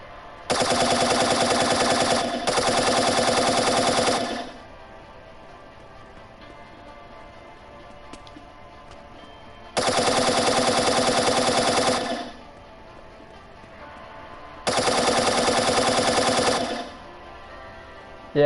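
Gunfire in a self-made flight game comes in three loud bursts of rapid automatic shots, each lasting two to four seconds, separated by quiet gaps.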